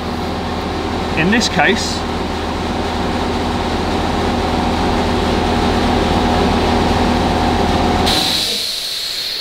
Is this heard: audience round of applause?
no